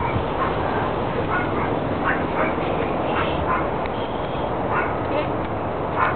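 Dogs bark in short, repeated bursts at a distance under a steady background hum, with people talking nearby.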